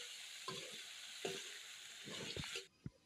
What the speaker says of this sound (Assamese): এতিয়া মই বনাব লৈছোঁ আলু ভাজি